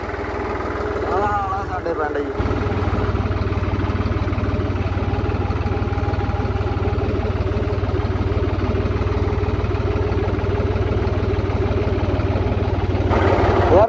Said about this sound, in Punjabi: ਡੇਗੂ ਡੇਗੂ ਕਰਦਾ ਟਰੈਕਟਰ